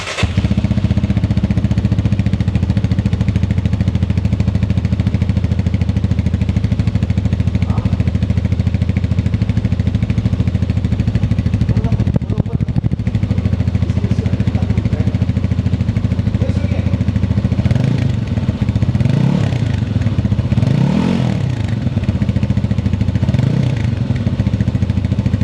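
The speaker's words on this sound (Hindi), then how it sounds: "लोग हमारे यहाँ एक बहुत बड़े एंथुसियास्ट हैं और वो कहते हैं यार मोटरसाइकिल में साउंड कैसी होगी" A 2025 Lifan K29 250cc cruiser motorcycle engine idles with a deep, loping thump, then blips the throttle in a few short revs toward the end.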